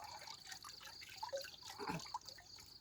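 Fermented cow dung liquid flowing out of a container, a close trickling and dripping stream with small splashes that runs steadily throughout.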